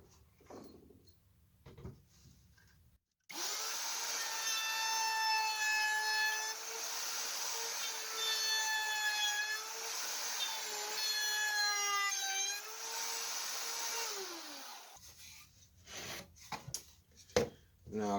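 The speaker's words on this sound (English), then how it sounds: "I've got the cutter set to take about 5/8 of an inch off of this board" Cutter machine trimming about 5/8 inch from a wooden board for a hand-cut dovetailed drawer repair, giving one loud, sustained, whining cut lasting roughly twelve seconds, preceded and followed by quieter handling noises.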